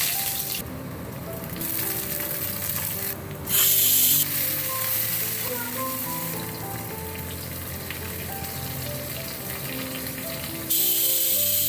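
A pan of Bengali fish curry sizzles and fries on a stove, a steady crackling hiss with brief louder bursts as it cooks.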